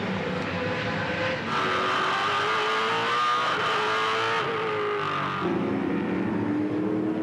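Several 2007 V8 Supercars brake hard and downshift into the hairpin at Phillip Island, loud engines roaring and dropping in pitch, then climbing again as the cars accelerate out, with overlapping engine notes.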